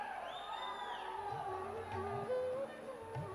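Crowd at a book release ceremony honouring KN Rajanna cheers and whoops in a busy hall, voices rising in bursts over a steady murmur, with shouts swelling near the end rather than clear clapping.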